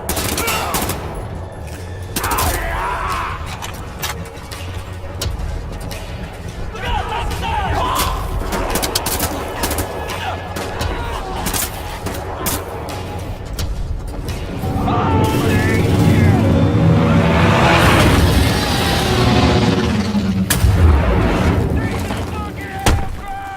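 Gunfire in the World War II shooter Wolfenstein: dense, continuous rattling volleys and explosions throughout, with shouted voices mixed into the battle and the action swelling louder in the second half.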